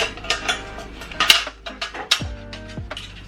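A Philips Airfryer basket slides back into the plastic housing and clicks into its lock, with several sharp knocks and rattles followed by a firm latching clunk, close and alone.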